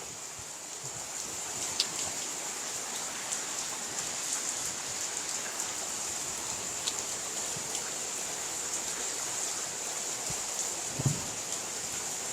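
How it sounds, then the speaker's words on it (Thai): Heavy rain pours down steadily, a dense continuous hiss of drops splashing on surfaces, with a couple of faint knocks and no voices. "ฝนสาด"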